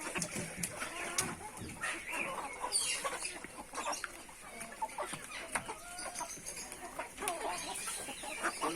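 Chickens and other fowl from Pakistan cluck and call together at a farm animal sanctuary, a busy chorus of overlapping nearby clucks and chirps continuing steadily throughout with no talking.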